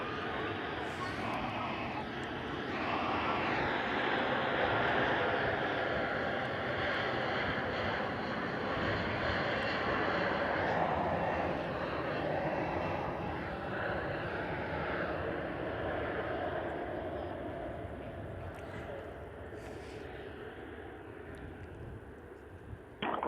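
An airliner takes off from the runway at Perth Airport, a broad roaring engine rumble held steady at middle distance before slowly fading, with radio chatter and voices heard over it.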